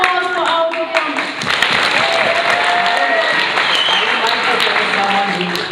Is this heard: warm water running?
no